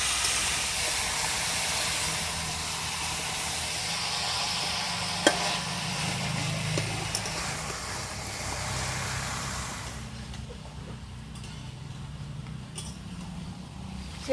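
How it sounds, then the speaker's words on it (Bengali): Broiler chicken meat frying in well-cooked spice masala in a little oil, a steady broad sizzle and hiss that softens and quietens toward the end, with a faint clink partway through. "মশলা ভালো করে কষে গেছে, এবার মাংসগুলো দিয়ে দেবো সব"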